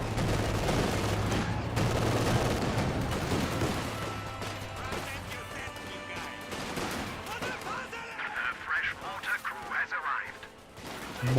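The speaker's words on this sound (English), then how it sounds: "Mortar's been deployed on by Red." Mortar and gunfire in the video game Company of Heroes 2, a volley of loud booming shots and crackling bursts up front that thin into scattered impacts and battle noise.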